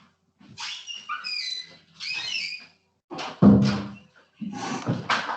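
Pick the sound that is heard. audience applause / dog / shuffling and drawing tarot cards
dog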